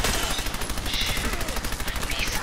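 Rapid gunfire from a science gun in Fallout 4 rattles on steadily through the whole stretch, dense and close, with faint speech-like sound mixed underneath.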